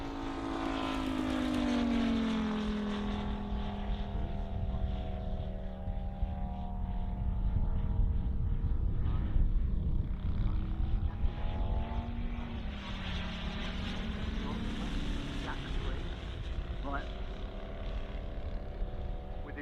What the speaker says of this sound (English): This is a Mocky 250 Radial 5-cylinder. And then he's going to wind it up and it sounds like nothing else.